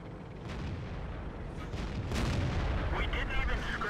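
Tank shells striking armour in World of Tanks, a couple of heavy booming impacts over a steady rumbling battle background, with a metallic ring near the end.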